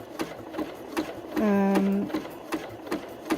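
Sewing machine running at a steady, unhurried pace while stitching a mushroom appliqué with polyester thread under a transparent foot, a single sustained whirring run of about half a second, near and clear, framed by quieter ticks and handling noise.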